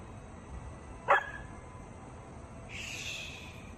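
A single sharp dog bark rings out once, fairly close, followed by a thin whining or whimpering tone later in an otherwise quiet indoor space.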